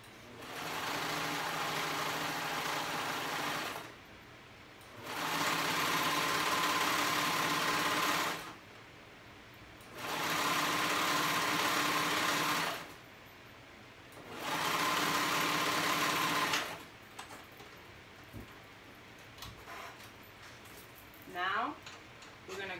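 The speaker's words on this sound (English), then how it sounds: "my cover stitch, but any kind of stitch, zigzag stitch, stretch stitch, double needle" A cover stitch sewing machine runs in four steady bursts of a few seconds each, stitching fabric for a tank top, with short pauses between runs and quiet handling noises afterward.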